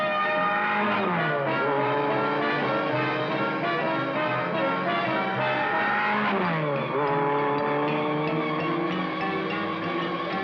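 Mach 5 race car driving and handling, a loud continuous engine with sweeping pitch rises and falls as it accelerates and turns, steady and close throughout with no talk.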